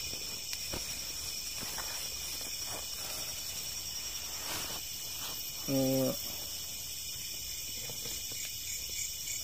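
Crickets chirp in a steady, continuous high-pitched drone, with a few faint clicks and taps scattered underneath.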